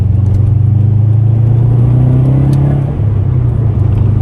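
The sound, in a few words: Subaru WRX car driving on mountain road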